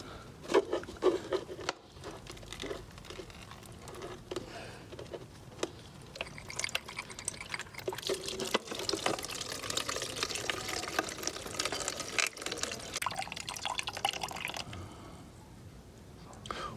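Coolant water drains from the radiator of a BMW F650GS Dakar motorcycle with the cap off, a steady close pattering splash that keeps running with brief dips and a softer, thinner flow near the end.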